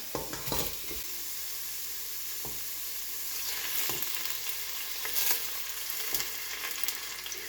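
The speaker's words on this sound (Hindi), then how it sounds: "प्याज काट लिया, इसको हांडी में ऐड करती हूँ और साथ ही ऐड करते हैं ऑयल।" Onion frying in oil in a cooking pot (handi), a steady loud sizzle throughout with occasional stirring knocks, no voices.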